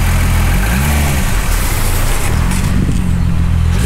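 A just-started car engine with a swapped engine idles with a low, steady rumble close by, its pitch shifting slightly once or twice.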